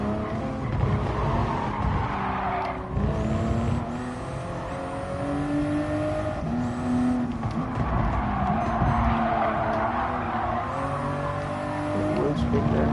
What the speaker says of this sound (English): Wheel spin going on